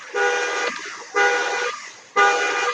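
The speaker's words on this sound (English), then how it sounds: "I think that was a car alarm on my street" Car alarm blaring on a residential street outside, three loud steady electronic blasts, each lasting about a second, with short breaks between them.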